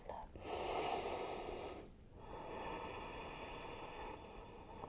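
A deep breath taken during a yoga back stretch, heard as a long, close inhale, then a slow, airy exhale after a brief pause.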